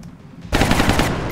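A single loud, close burst of gunfire erupts abruptly from silence in XCOM Long War and sustains as a rapid, rattling volley for nearly a second before easing off.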